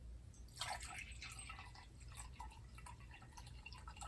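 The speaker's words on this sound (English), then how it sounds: "So let's get a cup of water in there." Water pours into a mug, a quiet splashing and trickling heard close up in an otherwise still room.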